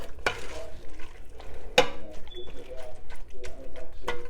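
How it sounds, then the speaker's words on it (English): Ground beef cooks in a pan for a casserole while being stirred, giving a couple of sharp utensil scrapes over a soft sizzle as a voice talks through much of it. "I got to stir this ground beef up again."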